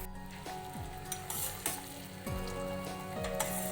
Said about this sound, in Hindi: गोल्डन ब्राउन होने तक आप फ्राई करें।